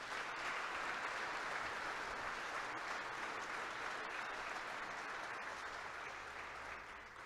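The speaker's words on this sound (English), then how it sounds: "So give yourself a round of applause." A crowd claps through a championship finals event, a dense, even wash of applause that holds steady for about seven seconds and fades slightly at the end.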